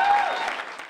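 Brief burst of audience applause for the NAACP at a community event, a short wash of clapping that fades within a second, with a faint sustained tone over the start.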